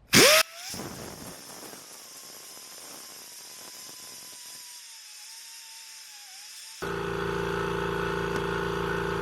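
A power tool cleans the surface of galvanized steel during a rust patch repair, starting with a sharp burst and then a sustained whine that drops into a quieter grinding stretch before a louder, rougher run at the end.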